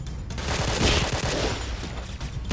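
Rapid automatic gunfire from a clan-war battle royale shooter game, loud and continuous with dense overlapping shots throughout.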